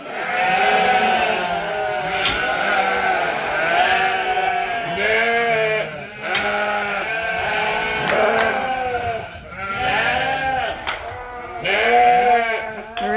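Sheep crowd a farm feeder, bleating loudly and continuously in many overlapping calls from several animals close by.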